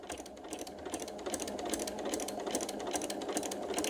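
A sewing machine stitches quilt binding in a fast, steady run of rapid needle strokes, close and continuous for a few seconds with no talk.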